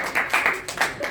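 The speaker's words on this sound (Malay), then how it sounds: "beri tepukan" Classmates in a secondary-school history lesson give a brief round of clapping, a short cluster of bright hand claps from a small group, close and moderately loud.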